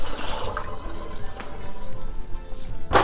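Water runs from a kitchen faucet into a pot for a warm water bath, a steady close splashing stream with a brief louder gush at the end, no talking.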